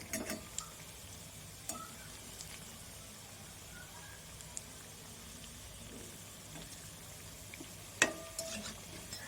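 Vegetable pakoras fry quietly in hot oil with a soft, steady sizzle while they are lifted out one at a time. A few light clinks of a utensil stand out, including a sharper one near the end.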